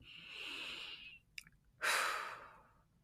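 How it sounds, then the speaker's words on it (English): A long, deep breath is drawn in and then let out as a heavy sigh, close and alone, with a small catch of breath between the inhale and exhale. "I imagine Saul took a real deep breath."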